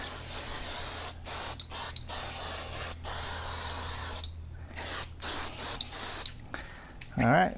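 Cleaner sprayed onto a Toyota 4Runner engine, a series of loud, close hissing spray bursts of varying length separated by short pauses, ending with a brief rising mechanical sound.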